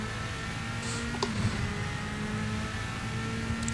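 Porsche prototype race car engine in Assetto Corsa, a steady droning hum at moderate level with faint tonal whine, no talking over it.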